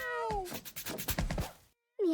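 Several cartoon cats meow in a row in the Mewgenics video game, a pitched falling meow at the start, then a busy cluster of short mews, a brief silence, and one more loud meow at the end.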